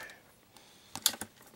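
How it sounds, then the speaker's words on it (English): The mechanism of a repainted Shellraiser toy vehicle clicks in a short burst of three or four sharp plastic ticks after a quiet moment, close and crisp. "There's that clicking noise."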